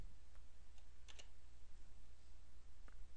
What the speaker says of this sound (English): I'm going to go backspace, type in a 9